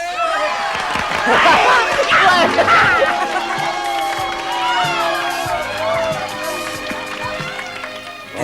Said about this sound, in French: Applaudissez Zachary Rogers et Léo Samuels.